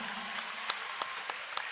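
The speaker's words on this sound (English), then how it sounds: "Well-deserved applause as they're coming out of the game" Crowd applause at a girls' varsity high school basketball game as three seniors leave the court, a faint, steady clapping with a few sharper claps standing out.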